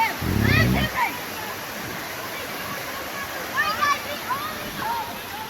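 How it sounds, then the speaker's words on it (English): A river runs beside a hiking path on Hogback Ridge, a steady rushing wash heard close, with a burst of splashing early on and scattered voices and children's chatter over it. "we're on the path right up here, right along the river"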